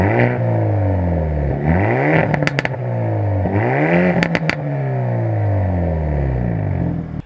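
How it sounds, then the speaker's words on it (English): A 2022 Hyundai i30N Performance DCT revs twice in quick succession, the engine note sweeping up and falling back each time, with sharp crackles and pops on the overrun, loud and close. "I will dub in a clip where you can hear the car revving"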